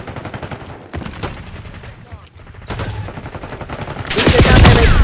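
Loud bursts of rapid automatic gunfire and explosive booms fill a Call of Duty: Black Ops 6 firefight, with dense overlapping shots rising to a heavy barrage at the end.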